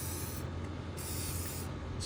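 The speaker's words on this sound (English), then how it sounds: "spray a little bit on the connections" Short, close bursts of hissing spray from a can of WD-40 lubricant aimed at the connections on a pressure washer, one long burst followed by a second after a brief gap.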